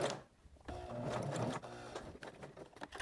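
A sewing machine runs steadily across a fabric cuff, then pauses briefly and resumes to back-stitch. The motor hum is near and continuous, with no talking.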